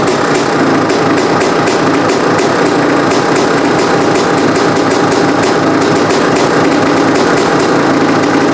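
A Honda CR500 two-stroke dirt bike running on a cheap eBay carburetor idles steadily and loud up close, a continuous rough buzzing with a rapid, even pulse and no voices.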